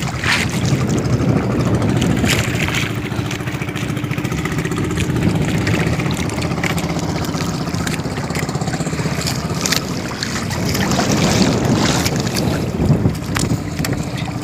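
Strong wind at sea roars over a fishing boat working a payaw, buffeting the microphone with loud, steady rushing noise and a low rumble that continues throughout without any voices.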